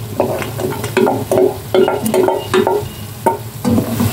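A spoon stirs sautéed papaya with sardines, garlic and onion in a pan, giving repeated scraping strokes over a steady sizzle, loud and close.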